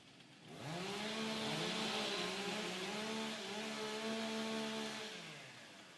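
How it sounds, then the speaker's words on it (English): A STIHL stock saw chainsaw engine warming up before a women's timbersports championship race, rising to a loud steady high rev and holding it, with pitch wavering, before easing off at the end. "Warm up your saw."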